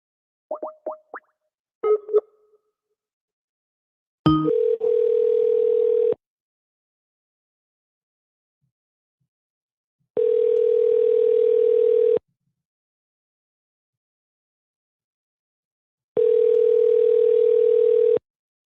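A phone call being placed: a few quick dialing blips, then a steady ringback tone sounding three times in long evenly spaced bursts with silence between, clear and alone.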